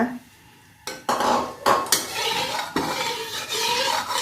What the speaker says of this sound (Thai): จะใส่น้ำมันหมูลงไปนะ